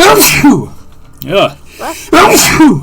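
A person sneezes amid casual conversation at home, one burst of breath and voice standing out between other people talking nearby.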